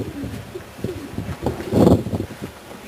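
Janssen racing pigeons in a loft's young bird section coo softly and repeatedly, low throaty burbling calls overlapping at close range, with one louder fluttering rustle partway through.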